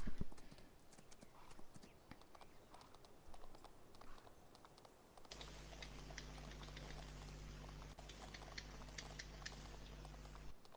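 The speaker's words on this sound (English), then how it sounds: "I have to run these 4 horses around the map quickly." Horses galloping in Farming Simulator 19 on PS4, a steady stream of clip-clop hoofbeats over a constant low engine-like hum from the game, moderately loud and continuous without talk.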